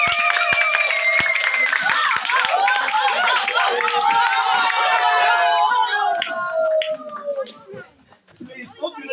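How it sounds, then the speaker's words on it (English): A crowd claps rhythmically and cheers for participants in a Bible-passage game at a church gathering. Loud, sustained clapping mixes with excited shouting voices, then thins out and fades near the end. "So when I say someone should go, you clap for them."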